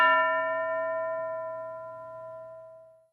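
A single struck bell rings once in a classroom setting, a clear bright chime whose tone slowly decays over about three seconds with nothing else heard.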